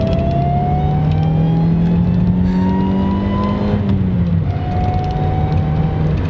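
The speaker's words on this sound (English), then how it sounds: "Okay, so that's what a supercharger should sound like, man." A twin-screw supercharged Honda CR-Z hybrid revving hard, a loud, continuous engine drone with a rising supercharger whine that climbs, dips briefly and climbs again, close up and filling the whole stretch.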